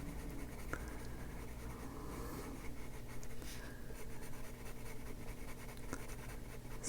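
Colored pencil strokes on paper while coloring a spring blossom page, a faint, continuous soft scratching with small rhythmic back-and-forth shading, close and quiet.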